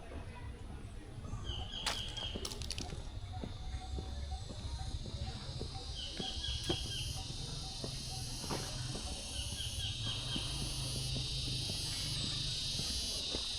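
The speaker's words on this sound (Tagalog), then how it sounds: "Ah, kuliglig." Cicadas buzz continuously near Caleruega church, a shrill steady drone with occasional chirps over low background rumble, and no talking.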